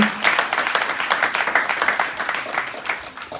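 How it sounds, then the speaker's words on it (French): An audience applauds a sailor from the Golden Globe Race returning in his Rustler 36 yacht, a steady wash of many hands clapping at moderate level, continuous and fairly close. "encore une fois, applaudissements s'il vous plaît."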